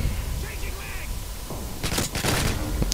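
Gunfire in Modern Warfare 2's Search and Destroy mode: a rapid cluster of sharp cracks and shots mid-clip over a busy game background, with a player's voice talking throughout.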